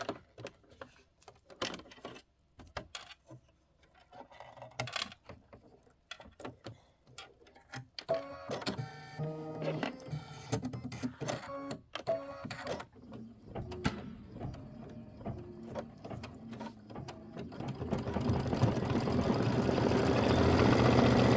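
A home embroidery machine stitches a mug rug design onto linen, with fast rhythmic mechanical ticking and whirring that starts sparse, steadies into a continuous buzz and grows louder toward the end, with no talking.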